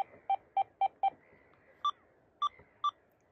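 A series of short electronic beeps from an XP Deus II metal detector picking up interference, four quick evenly spaced tones followed by three higher, slower ones, fairly faint against a quiet hum.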